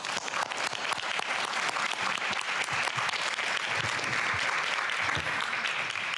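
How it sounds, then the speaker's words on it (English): An audience at a school board meeting applauds student scholars and teacher honorees, dense continuous clapping from many hands, loud and sustained throughout with no pauses. "please join me in one more round of applause for our amazing student scholars and our great teacher honorees"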